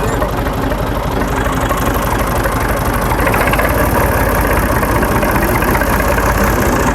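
A tractor engine idles steadily and loudly while being hitched to a trolley, a continuous low rumbling throb with a fast knocking pulse that holds even throughout, with no talk over it.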